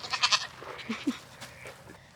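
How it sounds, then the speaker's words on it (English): Goats on a small farm give a few short, faint bleats in a cold snap. The nearer calls come first and quieter ones trail off afterward. "I get to just stand around and check on the goats and make sure everything looks okay"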